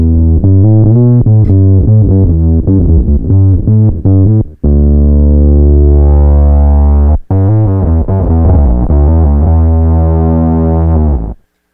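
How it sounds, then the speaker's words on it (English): Two synthesizer oscillators from a bass guitar synthesizer setup with an RC-1324-VX prototype bass, GR-33B and VB-99 play together in duet, loud and buzzy, with choppy note runs and sustained tones. "we're hearing just two oscillators playing together"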